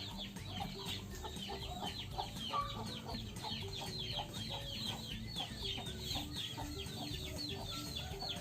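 Chickens cluck and murmur repeatedly nearby in a farmyard after rain, a busy overlapping chorus of short clucks with steady background noise.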